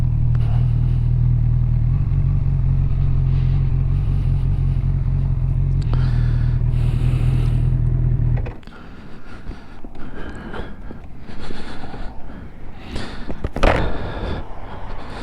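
A 2022 Honda CB1000R Black Edition motorcycle riding twisty roads: a loud, steady low engine drone with wind for about eight seconds, then an abrupt shift to quieter, clattery, uneven rumbling.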